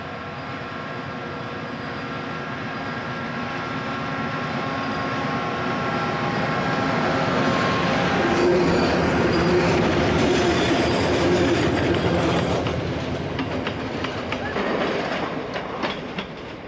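A train crosses a railway bridge in Sri Lanka, a loud rumbling roar with rhythmic clickety-clack of wagons that swells to a peak midway and then slowly fades.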